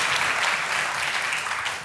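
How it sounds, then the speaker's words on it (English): Audience clapping at an evening talk, a dense steady wash of many hands that holds throughout and tapers slightly at the end, with no voices over it. "While you were all clapping, so thank you very much."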